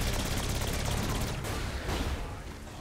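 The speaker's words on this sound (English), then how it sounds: "The shotguns are super effective." Dense, sustained gunfire from shotguns in the video game Saints Row 4, loud and continuous in a busy game battle with overlapping blasts that ease slightly toward the end.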